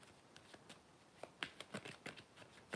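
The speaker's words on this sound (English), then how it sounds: "So I'm just going to give it a good old shuffle." A deck of tarot cards is shuffled in a quiet room, giving a quick series of soft riffling flicks and taps that grow busier toward the end.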